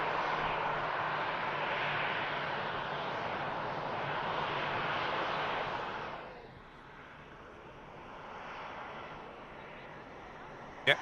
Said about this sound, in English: TUI 73 touching down without issue.